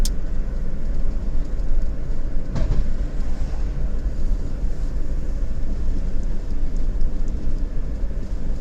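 A train running out of Waterloo, Oklahoma, near a wildfire in Logan County: continuous loud, broadband rumble and roar holding steady throughout, with wind buffeting the microphone and no talk.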